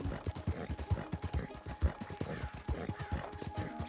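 Hooves of a few spotted Appaloosa horse beat out a steady, rhythmic clip-clop while it is ridden in the video game Red Dead Redemption 2, close and fairly loud, with occasional clanks and background game sounds.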